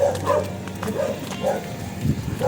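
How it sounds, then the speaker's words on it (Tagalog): A dog barks and whimpers nearby in a few short, repeated yelps, with people talking at the same time. "May aso ba dyan? Yung aso?"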